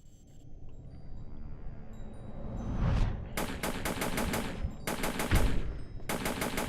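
Video game gunfire in Vortica, shooting at ghosts: rapid automatic bursts crackle in several sharp volleys over a rumbling background, loud and close.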